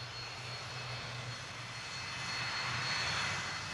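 Jet airliner engines idling and rumbling steadily as the plane taxis out for takeoff after a refueling stop in Brussels, a continuous broadband roar with a low hum that swells slightly toward the end.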